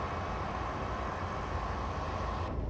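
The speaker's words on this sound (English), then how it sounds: "I quite like this train because it's diesel" A diesel train rumbles with a steady, continuous drone at close range, a broad even roar with no breaks, cutting off abruptly near the end.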